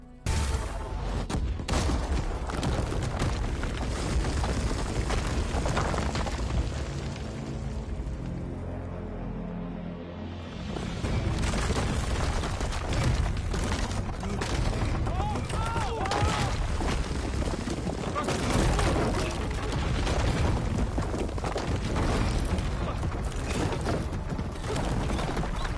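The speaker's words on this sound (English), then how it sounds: "Aloy is able to take the Tremor Tusk cannon and is able to use it to do this." A Tremor Tusk cannon fires with rapid, heavy blasts and explosions in the Horizon Forbidden West video game, forming dense sustained gunfire with a brief dip midway and mechanical clanking underneath.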